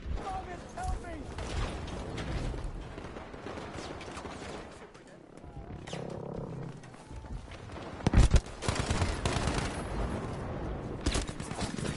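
Trench carbine gunfire in a Battlefield V match: dense bursts of shots and mechanical clatter over continuous battlefield noise, with a few louder close reports near the end and a player talking over it.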